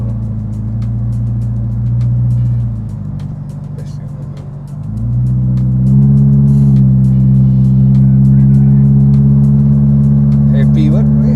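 A modified first-generation Toyota Innova with an aftermarket exhaust idles with a deep, steady drone, dips briefly, then revs up to a louder sustained note, recorded up close with people talking nearby.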